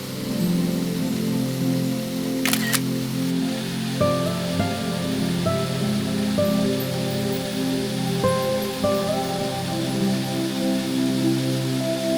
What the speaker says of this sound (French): L'eau chute le long d'une falaise basaltique sombre.